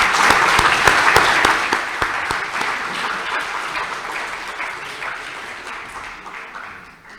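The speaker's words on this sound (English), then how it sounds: "I'd like a round of applause for the participants who are on the wall." Audience applause for workshop participants at a talk on workplace inclusivity in Cornwall, a steady burst of clapping with distinct sharp claps that gradually thins and fades away.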